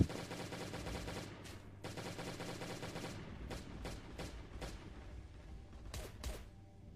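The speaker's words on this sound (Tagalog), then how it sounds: "Okay, pistol." Gunfire from the mobile survival game Last Day on Earth rings out as rapid bursts of sharp shots, first a dense run and then spaced single reports, fairly quiet overall with no voice over them.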